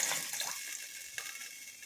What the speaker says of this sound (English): then I'm going to add water because I do not have any